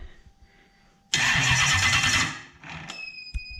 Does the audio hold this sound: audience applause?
no